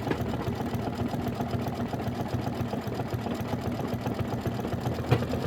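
An embroidery machine stitches out a watermelon quilt block design, its needle running in a fast, steady mechanical chatter that continues evenly throughout.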